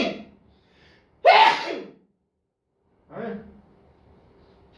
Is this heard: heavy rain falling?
no